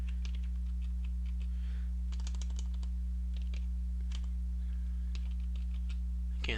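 Quick bursts of clicky keystrokes on a computer keyboard sound close, in irregular runs, over a constant low electrical hum.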